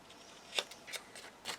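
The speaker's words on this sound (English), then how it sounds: "I'm just going to use my scissors and just chop those off there." Scissors cut paper in a few quick, quiet snips about every half second, close to the listener, with stamped craft paper being trimmed.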